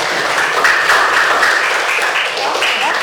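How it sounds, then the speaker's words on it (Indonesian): Students in a classroom clap for classmates after a group presentation, a steady, moderately loud patter of hands with a faint tone ringing through it. "Oke, beri tepuk tangan untuk temannya."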